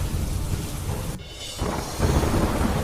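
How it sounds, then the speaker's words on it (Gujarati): Heavy downpour with thunder rumbling through it in Deoria, Uttar Pradesh, steady and loud, with a brief dip in the middle before the rain and thunder swell back stronger. "ધોધમાર વરસાદ પડતા રસ્તા પર ફરી વળ્યા પાણી."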